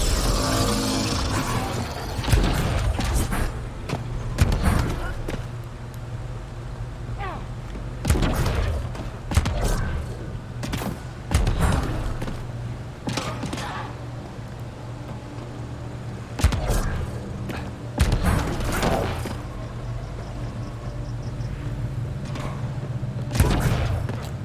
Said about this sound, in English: them jumping and firing their jets sounds like gunfire